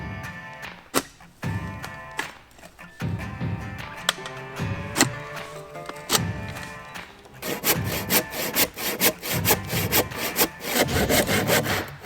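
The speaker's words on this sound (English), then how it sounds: "I'm just sawing flat bottoms on these so they sit in the hole as well" A hand saw cuts flat bottoms on wooden logs in rhythmic back-and-forth strokes, loud and close, speeding up into quick rasping strokes near the end.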